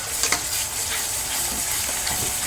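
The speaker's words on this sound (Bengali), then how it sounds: "দেখুন ভালো করে নেড়ে চেড়ে নিচ্ছি" Hot oil frying with a masala spice mix being stirred in a pan, a steady close sizzle running throughout with a few louder scraping stirs near the start.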